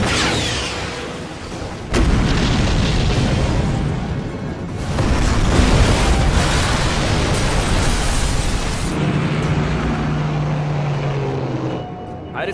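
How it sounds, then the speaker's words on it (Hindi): A bridge is blown up in a dubbed Hollywood action film, a loud roaring blast that bursts in suddenly and sustains as a heavy rumble, easing to a lower roar near the end. "एक और ब्रिज उड़ाने जा रहा हूं।"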